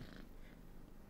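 Cat purring in a video game demo: a continuous soft, rumbling purr throughout, low in level and unbroken, with no talking over it.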